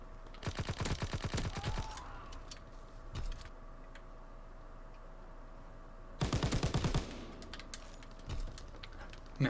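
Rapid bursts of mounted turret machine-gun fire in the World War II shooter Call of Duty WW2, two loud sustained volleys of dense rapid shots separated by quieter background battle noise and scattered single cracks.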